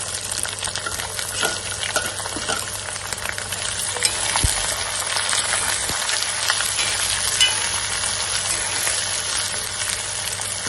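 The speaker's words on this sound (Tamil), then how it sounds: "2 பெரிய வெங்காயத்தை நல்லா கட் பண்ணி வச்சிருக்கேன். அதை சேர்த்துக்கலாம்." Two large chopped onions hit a frying pan with roasted coconut for beef fry, setting off a loud, continuous sizzle with occasional stirring scrapes.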